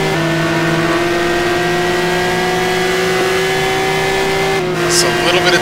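Porsche GT1 race cars lap Sebring in a racing video game, their engines holding a loud, steady whining drone that shifts pitch near the end as the cars accelerate, with commentary running over it.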